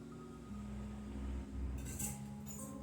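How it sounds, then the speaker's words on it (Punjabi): A spoon stirs custard powder and milk together in a bowl, giving faint, light metallic clinks and scrapes against the dish, close and quiet with no voices. "ਫਿਰ ਆਪਾਂ ਇਹਨੂੰ ਮਿਕਸ ਕਰ ਲਵਾਂਗੇ ਚੰਗੀ ਤਰ੍ਹਾਂ ਇਹਨੂੰ ਮਿਕਸ ਕਰ ਲਵਾਂਗੇ ਚਮਚੇ ਦੇ ਨਾਲ"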